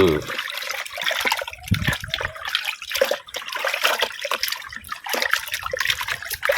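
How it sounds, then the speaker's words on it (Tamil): Fish are scrubbed and washed by hand with two handfuls of salt in water, giving continuous close splashing, sloshing and trickling with a voice talking over parts of it. "ரெண்டு கைப்பிடி அளவு உப்பு போட்டு நல்லா கழுவணுங்க அப்பதான் மீன் சூப்பரா வெள்ளையா வரும்"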